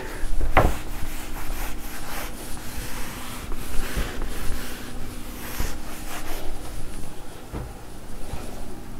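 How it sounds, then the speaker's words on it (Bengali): A board being wiped clean of writing: steady, close rubbing and scrubbing strokes that continue throughout, with a few sharper knocks among them and no talk. "আচ্ছা, পুরোটাই মুছে দিই, এটুকুনি থাক।"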